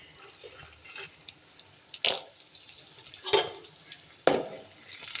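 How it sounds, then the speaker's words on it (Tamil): Cashew nuts fry in ghee for sago payasam, with a soft low sizzle broken by several bursts of a spoon stirring and scraping the pan, close and intermittent. "அண்டிப்பருப்பை வறுத்தெடுக்க போகிறோம். நெய் ஊற்றிருக்கோம்."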